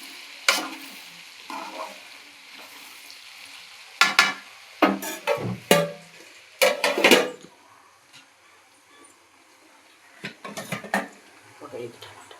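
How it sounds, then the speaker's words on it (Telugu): Onions and green chilies fry in a pan over medium flame for a Telugu tomato curry, with intermittent stirring and scraping bursts and clinks of a utensil against the pan over a low sizzle. "ఈ ఉల్లిపాయ పచ్చిమిరపకాయలు కూడా వేగిన దాకా మనం సిమ్లో మీడియం ఫ్లేమ్లో పెట్టుకొని"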